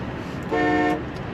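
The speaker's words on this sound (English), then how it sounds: "Factory horn sounds like a nice big Cadillac horn." A single deep factory horn blast from a 1978 Cadillac Eldorado, about half a second long, loud and close against a quiet idling background.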